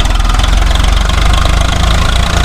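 A Swaraj 855 tractor engine drives a cutter thresher at about 1500-1600 RPM, giving a loud, close, continuous drone with a steady pulsing knock and no talking.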